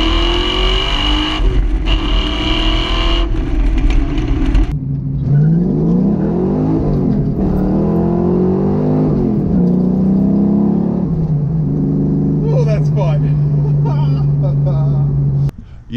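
A Fox Body Mustang project car's engine revs hard and loud close by, rising and falling through repeated pulls with a steady heavy drone in between, and no one speaks over it.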